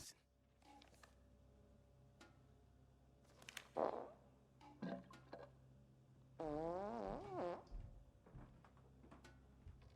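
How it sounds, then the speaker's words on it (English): Someone on a toilet in Mafia Definitive Edition lets out a few short farts, followed by one longer, wavering fart that sounds close and fairly quiet. "Someone had to create fart sounds."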